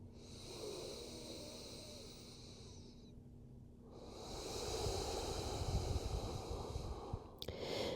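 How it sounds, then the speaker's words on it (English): Slow, deep breathing during a relaxation exercise, close and soft: a long airy exhale, a brief pause, then another drawn-out breath. "Full deep breaths."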